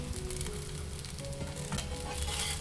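Neer dosa cooking on a hot pan over a high flame, a steady soft sizzle and crackle that carries through quietly without pause.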